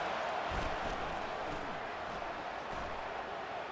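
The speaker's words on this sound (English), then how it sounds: "Here comes this home crowd as the defense tries to get off the field on third down." Steady crowd roar from a home stadium crowd in the College Football 25 video game, a Clemson home game against NC State, building on a third down; a broad continuous wash of cheering with faint commentary under it.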